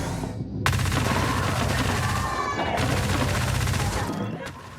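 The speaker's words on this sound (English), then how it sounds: "the Riveter, which is a submachine gun, which I fucking love because this is what it does to patients" Riveter submachine gun from Void Bastards firing in a loud, rapid, unbroken burst for about four seconds, with a brief pause partway, then cutting off sharply.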